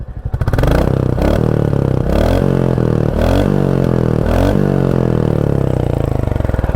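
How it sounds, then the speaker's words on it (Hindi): A 2023 Royal Enfield Classic 350 OBD-2 idles close up with a steady, loud thumping exhaust beat and a metallic tappet clatter ticking over it in regular pulses throughout. "मुझे जहाँ तक लग रहा है इसके जो टैपेड हैं वो हल्के से साउंड कर रहे हैं। ये सुनो, इतना साउंड तो देखो नहीं आना चाहिए।"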